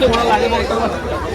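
A crowd at the Mhasa fair, a dense hubbub of many overlapping voices close by, steady and loud throughout.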